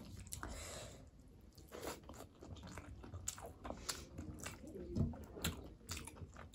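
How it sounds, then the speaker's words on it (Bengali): Close, quiet chewing and crunching of bony fasha fish eaten with rice, with wet bites and small cracks repeating irregularly. "চিবিয়ে খেয়ে নিতে হবে।"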